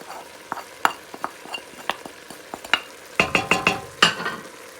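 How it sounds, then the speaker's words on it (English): A spoon stirs beans with spices, coriander and parsley in a pot, giving a run of irregular clinks and scrapes against the metal over a soft sizzle, with a few sharper knocks toward the end. "we just stir everything, give it a nice mix so all the spices will go in"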